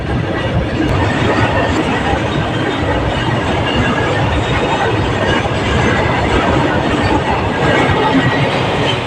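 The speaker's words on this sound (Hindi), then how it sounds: "नोआ हो माल गाड़ी के" A goods train rolls past on the railway, a loud, steady rumble of wagons with continuous clattering wheels filling the whole stretch, no pauses and no voices.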